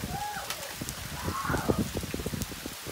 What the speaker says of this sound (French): toute cette grêle qui tombe en quantité énorme